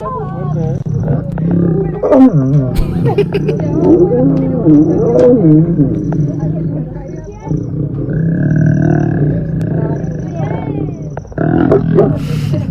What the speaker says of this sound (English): Listen to these 2 lions that jumped on top of the car.